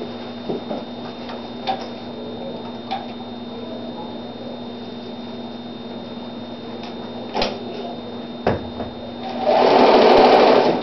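A sewing machine stitches fabric strips with back stitching, a steady low hum with sparse ticks, ending in a brief louder whirring run.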